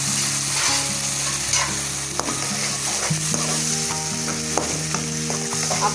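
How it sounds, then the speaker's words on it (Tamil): Onions sauté in a pan of oil for a tomato gravy, giving a loud, continuous close sizzle with occasional scraping knocks from stirring. "வெங்காயம் வதங்கிட்டு ஃப்ரெண்ட்ஸ். நல்லா டிரான்ஸ்பரண்ட் ஆகிற வதங்கட்டும்"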